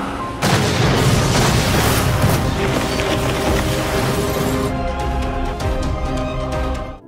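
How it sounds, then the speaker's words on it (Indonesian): A car explodes in a loud, sustained roaring blast that erupts after a brief quiet start and rumbles and crackles for several seconds before cutting off abruptly. "Namun lagi-lagi mobil meledak."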